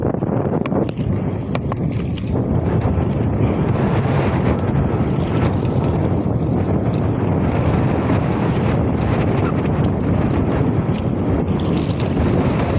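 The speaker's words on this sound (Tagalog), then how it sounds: "Lakas ng hangin." Strong wind at sea during a fishing trip by boat, roaring and buffeting the microphone with a loud, steady rush that runs unbroken throughout.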